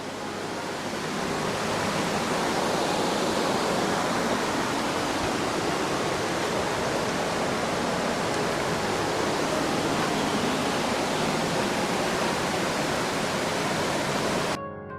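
A river rushes steadily past an old swimming hole with rocks, a constant broadband roar of flowing water that stays loud and even throughout before cutting off abruptly at the end, with no voices.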